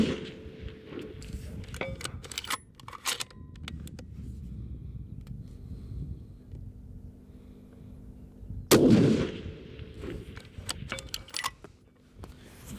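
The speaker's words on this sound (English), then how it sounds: "Now we'll do that with the live fire and" Live rifle fire on a shooting range, with one loud, sharp shot cracking out late after quieter handling clicks and background noise.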